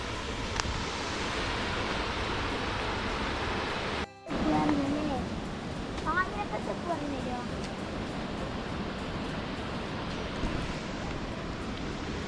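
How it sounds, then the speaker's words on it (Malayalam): Water leaking from a dam and pouring down, a constant broad rushing roar that fills the scene, briefly cut off once, with a few faint bird calls over it. "ഡാം ചോരുന്നുണ്ട്."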